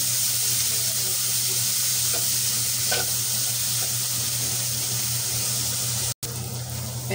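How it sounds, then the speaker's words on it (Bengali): Chopped onion and chili slices sizzle steadily in hot oil after fish has been fried in the same pan, a continuous close frying hiss with occasional stirring and a brief dropout near the end. "পেঁয়াজটা ভালোভাবে ভেজে নেব"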